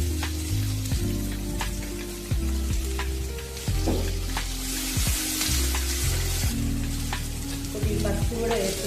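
Onion, mustard seeds, urad and chana dal, cumin, dried red chillies and curry leaves fry in a stainless steel AMC pan for brinjal drumstick curry, a loud dense sizzle with crackling pops and stirring scrapes, close up.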